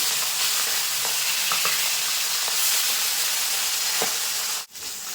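Pangas fish frying in plenty of hot oil, a loud continuous close sizzle and crackle with occasional pops, cut by a brief sharp clatter near the end before the frying resumes.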